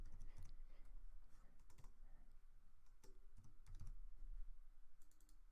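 Someone types a layer name on a computer keyboard, producing quiet, close clusters of quick key clicks in short irregular bursts, with no talking.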